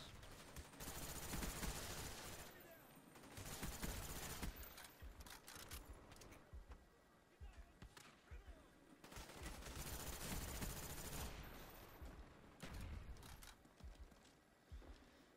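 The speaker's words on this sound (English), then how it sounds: "Showing you the power of the FAMAS." FAMAS assault rifle firing in a Call of Duty match, loud rapid automatic bursts crackling in repeated volleys with short pauses between, mixed with other battlefield gunfire.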